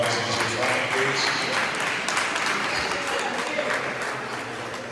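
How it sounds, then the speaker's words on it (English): Audience applause for the artists at an evening performance, a steady dense wash of clapping that runs the full length, loud and even, tapering slightly near the end. "Can we clap one more time for all the artists in the front"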